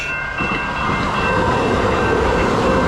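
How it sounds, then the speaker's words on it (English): Passenger train running through Long Beach, a loud steady rumble of wheels on rails with a rising roar and faint high squeal, heard close from on board without talk. "This is a train I used to take when I lived in Long Beach"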